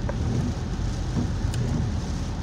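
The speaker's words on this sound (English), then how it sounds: "It is certainly, like, so rainy out here." Steady rain pours outdoors on a daytime walk, a dense continuous wash of drops and rumbling low noise, fairly loud and close with no voices.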